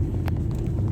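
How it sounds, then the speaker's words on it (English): Steady low engine rumble and road noise from inside a car driving home along a road in North Wales in winter, continuous and close, with no talk. "We're driving home now."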